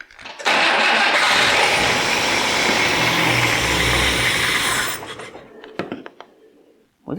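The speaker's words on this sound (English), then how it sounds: "That was a transmission making all that noise." An abandoned 1962 AMC Rambler runs loudly and roughly for about four and a half seconds, its transmission adding noise, before the engine cuts out. A few sharp clanks follow.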